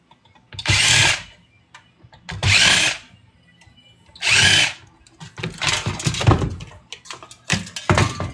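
A power drill backs screws out of scrapped electronics, whirring loudly and close in three separate bursts of roughly a second each, followed by rougher, uneven drilling and clattering handling noise.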